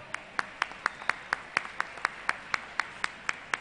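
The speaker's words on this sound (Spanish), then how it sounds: "el aplauso para ellos" Steady, evenly spaced hand claps from a small group at a school technology fair prize ceremony, sounding as crisp, fairly close beats in a regular rhythm with no talking over them.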